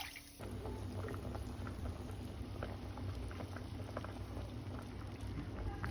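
A pot of curry with potatoes bubbles at a steady rolling boil, a continuous soft hiss of popping bubbles heard close up without any talking.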